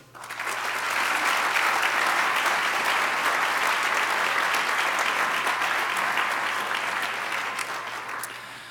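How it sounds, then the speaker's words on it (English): Sustained applause from a lecture audience at a memorial lecture, a dense, steady wash of many hands clapping that swells in quickly, holds loud for several seconds and tapers slightly at the end, with no talking over it. "I'd like everybody to give a round of applause for Larissa"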